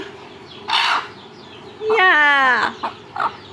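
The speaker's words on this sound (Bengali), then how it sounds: "এদিকে আমার মুরগিটার অবস্থা দেখেন" A hen clucks up close in two bursts, a short squawk followed by a longer drawn-out cackle, with a couple of faint clucks after and quiet background between.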